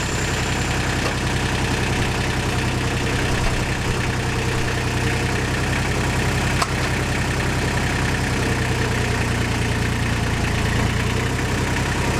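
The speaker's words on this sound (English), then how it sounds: "now I can start up the tractor and I can roll this" Tractor engine running at a steady idle while a lumber load is rolled into place, a continuous low rumble with no clear start-up surge and no voices.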